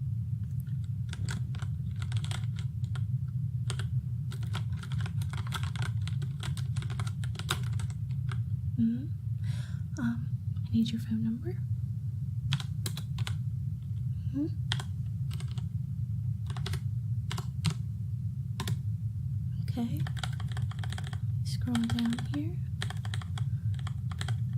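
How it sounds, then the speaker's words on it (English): Keyboard typing in a game-store ASMR roleplay, clustered bursts of close, soft key clicks repeating through the clip over a steady low hum, with someone speaking quietly in between. "You were hitting keys."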